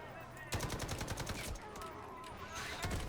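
Rapid automatic gunfire in the shooter game Delta Force, fired in fast bursts with a short pause between them, sharp and close over faint background noise.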